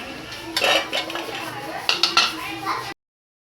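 Metal utensils clink and scrape against a frying pan as fried shankarpali, flaky layered Maharashtrian dough snacks, are lifted out, with a few sharp clatters over a soft background, then sudden silence.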